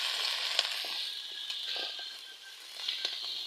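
Pumpkin and potato pieces fry in a spiced pangas fish curry with cauliflower and cabbage, a bright continuous sizzle close by, broken by soft stirring scrapes and small pops.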